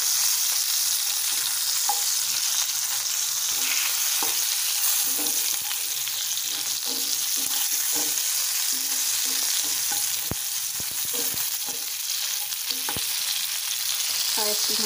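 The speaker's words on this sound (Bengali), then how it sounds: "মাঝে মধ্যে আমি ঢাকনাটা খুলে পটলটাকে ভালোভাবে নেড়ে চেড়ে নেব" Pointed gourd frying in oil in a pan, sizzling steadily and close throughout, with intermittent scraping and clinks of a spatula stirring the pieces and no one speaking.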